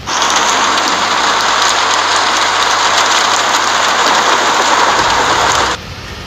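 Steady, dense rain pours down loudly and continuously, with a low engine-like hum underneath that cuts out near the end.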